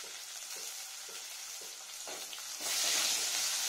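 Slit green chillies sizzle and crackle in hot oil for a cauliflower curry, a steady close frying hiss with light stirring scrapes that swells louder near the end.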